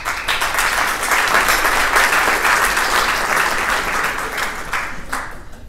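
An audience at a fundraising event for the Children of Cambodia Foundation claps loudly and steadily, a full, sustained round of applause that fades slightly at the very end.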